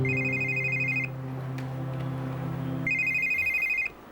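A telephone rings in two electronic trilling bursts separated by a pause, close and clear over a low indoor hum, with no voices.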